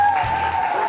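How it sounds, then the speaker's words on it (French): A children's audience applauding at a reading competition finalists' show, a brief, steady wash of clapping that sounds moderately near and fairly loud. "Comme vous le voyez, applaudissez pour vous."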